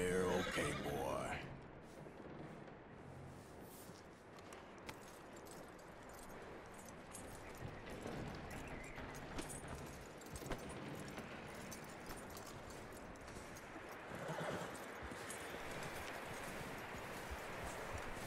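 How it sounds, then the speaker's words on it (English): Horse in the Red Dead Redemption 2 video game giving a whinny at the start, followed by soft hoof and movement noises under a quiet game ambience. "That looks like a decent horse."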